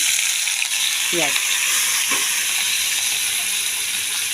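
Onions and tomato fry in oil with whole garam masala, cumin, bay leaf, chilli, turmeric and salt, giving a steady close sizzle with a couple of brief stirring scrapes.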